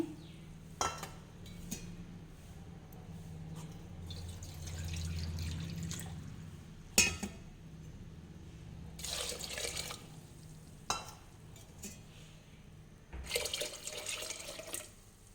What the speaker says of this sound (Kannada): ಬೌಲು ನೀರು ಹಾಕ್ತಾ ಇದ್ದೀನಿ